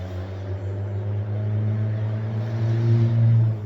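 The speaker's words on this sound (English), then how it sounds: "You hear that car?" A loud car engine rumbles with a deep, throaty exhaust drone that swells slightly as it passes close by.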